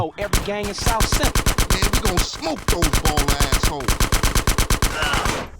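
Rapid automatic gunfire in GTA San Andreas, loud bursts of evenly spaced shots rattling on for several seconds with short breaks between volleys.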